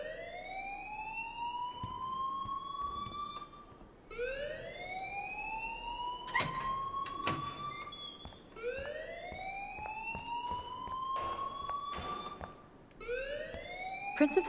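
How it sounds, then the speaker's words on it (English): A school alarm in the game Life Is Strange, rising whooping siren tones that repeat in long sweeps roughly every four seconds, loud and continuous. "please turn off that alarm since that's your job"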